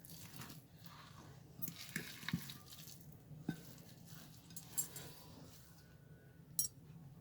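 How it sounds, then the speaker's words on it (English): Chicken and potato cutlet mixture, bound with corn flour, being mixed by hand: faint, soft squishing and stirring with a few light taps against the bowl, close and quiet. "Now again I'm going to mix it."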